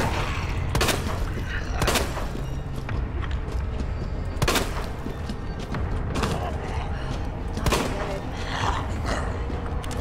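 Gunfire in the video game Resident Evil 2 cracks out as four loud, separate shots at uneven intervals, with mechanical clanks and a low rumble between them.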